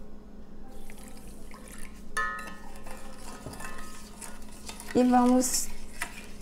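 A spoon stirs a sauce of sugar, salt and vinegar for sunomono in a bowl, with soft swirling and clinks, a sharper scrape and a tonal ring near the end, and a brief spoken word.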